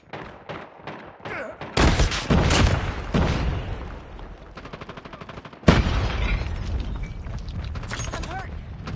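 A grenade explodes in a combat video game, with a loud burst followed by a second blast amid gunfire and clattering effects.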